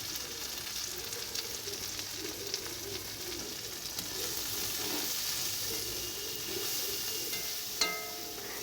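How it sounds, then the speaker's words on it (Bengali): Cut potatoes, long beans, green chili and okra frying together in a pan, a steady moderate sizzle and hiss running throughout, with a brief clink near the end and no voices. "আলু বরবটি তারপর কাঁচা লঙ্কা তার সঙ্গে দুটো ঢ্যাঁড়স ছিল সেটা একসঙ্গে কেটে ভেজে নিচ্ছি"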